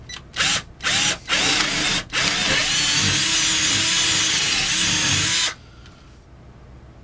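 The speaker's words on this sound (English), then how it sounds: "I'll start by drilling" A power drill starts with a few short bursts, then runs steadily as it bores a 5/16-inch hole through wood before cutting off, leaving a quiet hum.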